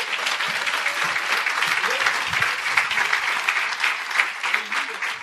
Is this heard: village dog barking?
no